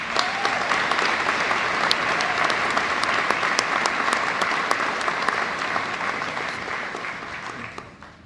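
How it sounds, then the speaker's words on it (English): Audience applauding at a fire recruit class graduation in Columbus, a full, sustained round of crisp clapping from a sizable crowd that holds for several seconds before tapering off at the end. "I think that deserves a round of applause."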